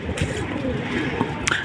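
A male pigeon coos in low, throaty bursts close by, over a steady murmur of background noise.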